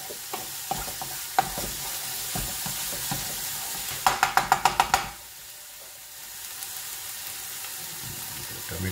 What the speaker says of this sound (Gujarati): આપણી ડુંગળી ધીમે ધીમે સતળાવા લાગી છે